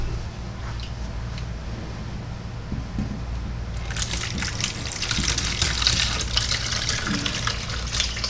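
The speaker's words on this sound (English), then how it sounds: "now we're just gonna strain out these onions" Liquid from caramelized onions poured through a strainer, a steady gushing, splashing pour that starts partway through and grows louder, close by with a low hum underneath and no talking.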